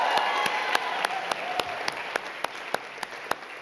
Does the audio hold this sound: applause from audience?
yes